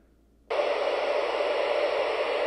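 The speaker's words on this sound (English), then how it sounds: "if I rotate the dial to open up the squelch," Static hiss from a Baofeng handheld radio bursts in suddenly as the squelch opens, after a near-silent moment, then holds as a steady, loud broadband rush to the end.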